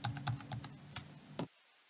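Keys on a computer keyboard are tapped in quick succession, arrow keys and the Shift key pressed while nudging an image in editing software, giving a close, crisp run of clicks that stops abruptly.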